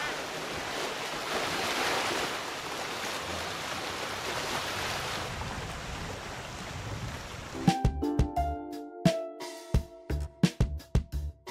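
Surf washes steadily onto Queen's Beach in Quy Nhon, Vietnam, a soft broad roar with some wind on the microphone, followed near the end by a run of sharp close clattering knocks.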